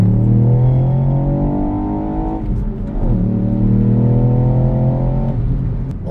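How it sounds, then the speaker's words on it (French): Ford Puma ST with a 200 hp engine accelerating in sport mode, its exhaust droning loudly and steadily close up as the revs climb, dip briefly around mid-clip, then rise again with a rich rumbling tone. "C'est vraiment directement l'échappement, et quand on appuie, il y a un petit bruit un peu sympathique"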